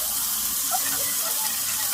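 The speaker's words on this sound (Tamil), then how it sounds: "நம்ம வெங்காயம் போட்டு ஃப்ரை பண்ணும்போது தேவையான அளவுக்கு உப்பு போட்டுக்கோங்க." Onions frying in a pan with salt added, a steady broadband sizzle with scraping stirring strokes close by, continuous and fairly loud with no voices.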